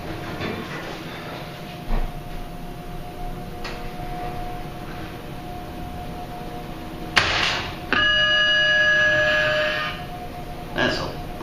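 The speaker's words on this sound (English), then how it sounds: "That's a weird sounding bell." Schindler 3300 elevator chime at The Block Northway mall in Pittsburgh, a single odd-sounding bell tone holding for about two seconds, heard over steady indoor mall background with faint holiday music.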